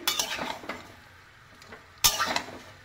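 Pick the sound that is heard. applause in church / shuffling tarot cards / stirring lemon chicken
stirring lemon chicken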